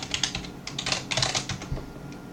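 Fingers typing a new password on a computer keyboard under Linux, a rapid, irregular run of close, crisp keystrokes continuing steadily throughout with no talking.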